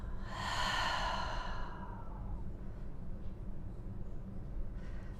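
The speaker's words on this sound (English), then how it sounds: "And then exhale." A deep, breathy exhale follows an inhale during a guided breathing moment, heard close and soft for about two seconds before fading into quiet room noise.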